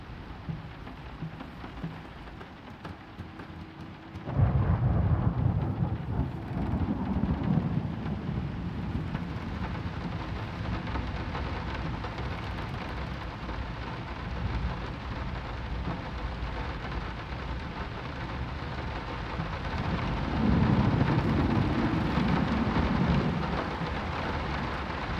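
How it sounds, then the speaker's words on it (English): Steady rain pours with low rumbling thunder inside a room in the 2023 horror video game Layers of Fear, the downpour swelling abruptly after a quiet start and a second heavy rumble building near the end. "I have a key and now it's raining in this room."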